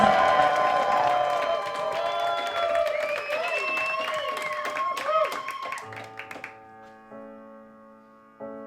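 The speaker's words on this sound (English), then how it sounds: "give a massive round of applause as we welcome to the stage Silver Summers" A crowd in London applauds and cheers as a drag performer is welcomed to the stage, clapping mixed with whoops under loud stage music that swells, then drops away to sparse tones near the end.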